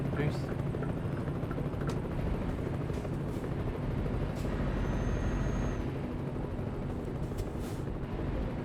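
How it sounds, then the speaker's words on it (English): Low, continuous rumble of a helicopter in Euro Truck Simulator 2, blended with the drone of a truck engine and a brief hiss like an air brake, steady throughout. "Helicopters."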